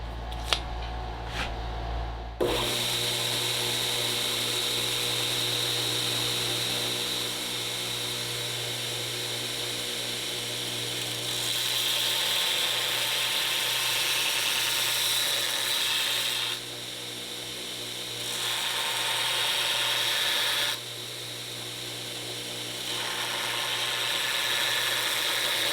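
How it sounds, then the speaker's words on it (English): A belt grinder grinds bevels into a 5160 steel kukri blade, a loud continuous abrasive whine and rasp that rises and falls in intensity as the blade is pressed and lifted. "grind in those bevels the rest of the way"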